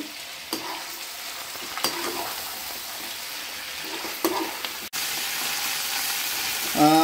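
Fish frying in a pan, a continuous close sizzle and hiss punctuated by several clicks and scrapes of a turner, with a brief cut in the sound near the end.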